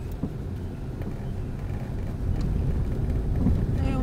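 Car engine in a driving-school lesson, a steady mid-loudness rumble that builds slightly as the car accelerates, with road and wind noise around it.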